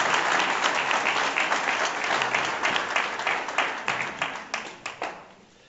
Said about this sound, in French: on applaudit encore très très fort l'UCLH